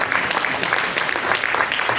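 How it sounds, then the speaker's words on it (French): An audience at a public meeting keeps up dense, continuous applause with many hands clapping at once, loud and close, with a few voices mixed in. "je pense qu'on peut les applaudir"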